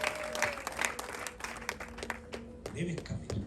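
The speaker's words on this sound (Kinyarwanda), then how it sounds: "Amashyi nyamuneka dushimire rwose mbera Samson." Wedding guests at a Rwandan celebration burst into steady applause, a dense spread of clapping from a crowd close by, continuing throughout with a few low voices underneath.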